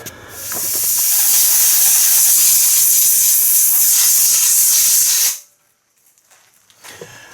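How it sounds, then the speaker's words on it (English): Compressed air blasting out a GMC Sierra/Silverado air cleaner box, one loud continuous hiss lasting about five seconds before cutting off abruptly, followed by faint handling clatter. "I just hit that with compressed air"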